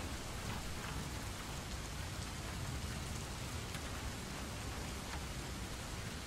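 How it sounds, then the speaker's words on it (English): Steady rain from the rainymood.com website, played as continuous background ambience, a dense even hiss of falling rain with scattered drop patter and no talk. "Little website I found, www.rainymood.com. That's all it plays, just rain."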